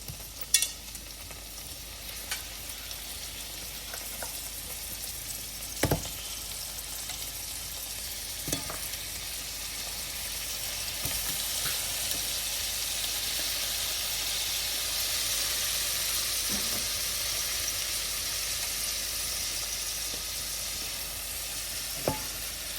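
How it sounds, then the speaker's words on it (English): Shrimp sizzling steadily in a pan with shallot for shrimp scampi, a constant broad frying hiss with occasional soft clicks and pops of stirring, no talking. "Now we're going to cook the shrimp for 1 to 2 minutes."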